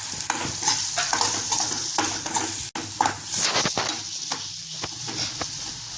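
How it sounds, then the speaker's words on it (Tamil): Spices sizzle and fry in a hot pan for egg gravy, with steady crackling and occasional scraping stirs, close up and continuous with no talk. "இப்போ இதை நல்லா வதக்கியாச்சு."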